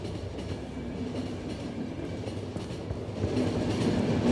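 A train runs on rails in the video game The Final Station, a steady rolling rumble with faint rhythmic clatter that grows slightly louder toward the end, with no talk.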